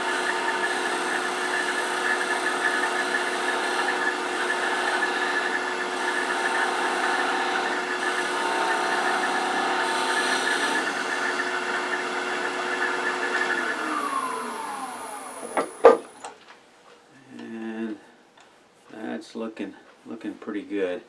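A wood lathe turns a rook pencil pot while a tool makes a planing cut, giving a steady whine with a sustained cutting hiss for about fifteen seconds before the lathe spins down. Brief handling noises follow.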